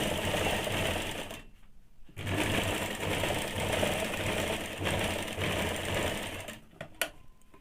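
A sewing machine stitching along a blouse hem runs loud and steady with a dense mechanical whir, pausing briefly once and stopping near the end with a few clicks.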